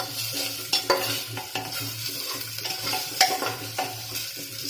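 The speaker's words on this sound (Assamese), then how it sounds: "পিঁয়াজখিনি জ্বলি লৈছোঁ।" Onions fry for biryani in a pan, a steady loud sizzle broken by the repeated scrape and clatter of stirring, close up with no talking.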